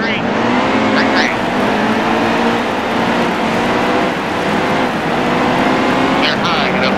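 Race cars roar at the green-flag start of a NASCAR Heat 2 race at Martinsville, a loud steady engine drone from the pack with brief higher revving whines, while a voice talks over it.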